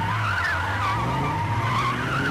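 Tyres squeal in a sustained, wavering screech as a car spins out and slides during a film car chase, loud and continuous throughout.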